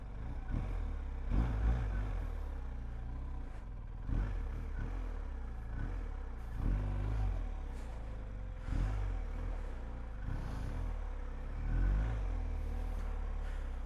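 A motorcycle engine while riding, a low, continuous rumble that rises and falls unevenly, mixed with wind buffeting and occasional clatter, with no talking.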